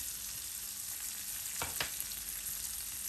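Green chilies fry in a pan for a yogurt and green-chili curry, giving a faint, steady sizzle with a couple of brief stirring scrapes near the middle.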